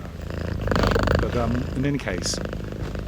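Cat purring close by, a continuous low rumbling purr under a man's speech, steady and fairly loud throughout.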